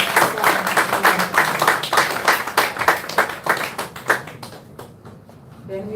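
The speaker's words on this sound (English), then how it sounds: "Please, a round of applause for Mr. Jibrin." Audience clapping steadily for a speaker at a democracy forum in Abuja, dense and fairly close, then thinning out and fading as the clapping dies down.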